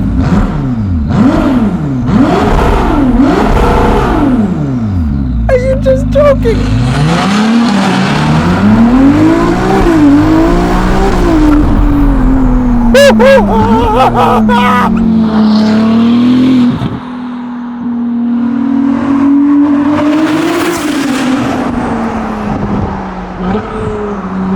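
Loud Novitec-tuned Ferrari 296 GTB V6 exhaust revving hard and echoing in a tunnel, rising and falling through gears, with a brief voice partway through.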